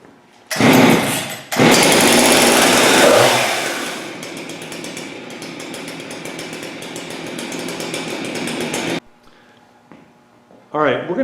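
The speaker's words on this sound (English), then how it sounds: "now he can rev it up and do his checks while the saw is running" A warmed-up chainsaw revs loudly for several seconds, then settles into a steady running idle before cutting off, followed by someone speaking nearby.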